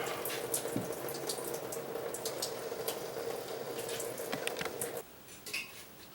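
Fluid steadily draining and splashing from a disconnected oil cooler line on a 2008 BMW 535xi, a continuous close trickling pour that abruptly thins to a weaker dribble near the end.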